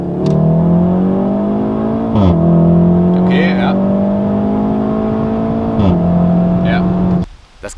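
A VW Golf R with an Akrapovič titanium exhaust sprints from 50 km/h in race mode. The close engine and exhaust note climbs steadily in pitch, drops sharply at two gear changes and then cuts off abruptly near the end.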